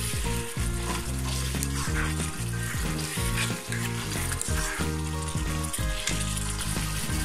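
Spice masala for mutton kosha sizzling hard in a pan while a spoon scrapes through it in quick repeated strokes, loud and close, with a steady frying hiss throughout.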